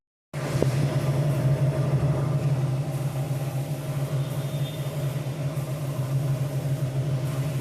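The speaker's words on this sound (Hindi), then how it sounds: "मोबिल काफ़ी कम था, जिसकी वजह से इंजन में नॉइज़ बहुत ज़्यादा हो चुका है।" A VW Vento engine low on oil idles with a loud, continuous rough drone and a persistent knocking noise, heard close up with no talk.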